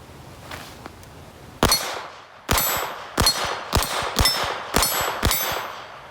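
Sharp, loud gunshots ring out from a Beretta 81 pistol, the first fired in double action, then several more in fairly quick succession, each with a metallic clang.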